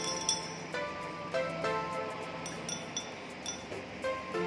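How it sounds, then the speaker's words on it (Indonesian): Glassware clinks and taps repeatedly as NaOH is stirred in distilled water until it dissolves, sharp bright pings at an irregular rhythm, close and fairly quiet in a lab. "Kita aduk sampai NaOH ini larut semua."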